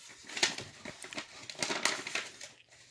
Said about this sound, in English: next is just fold it in half